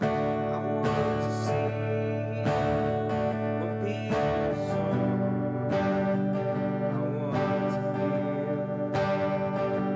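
Acoustic guitar strummed through the verse chords of a song with a steady rhythm while a voice sings along over it.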